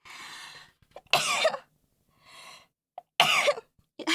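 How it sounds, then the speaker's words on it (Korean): Two sharp, loud coughs, each preceded by a quieter breathy sound, separated by short pauses with a faint click in between. "기침"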